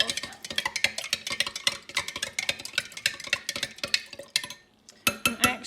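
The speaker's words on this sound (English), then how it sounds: "I'm going to stir that up until all the Epsom salt has dissolved." Epsom salt being stirred into water in a container, rapid repeated clinking and scraping of a utensil against the vessel, fairly close, pausing briefly near the end before resuming.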